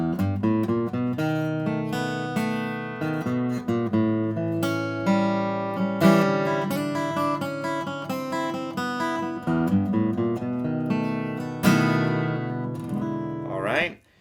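An acoustic blues guitar plays the closing four bars of a practice progression with fills: a continuous run of plucked notes and chords, close and clear, with no talking.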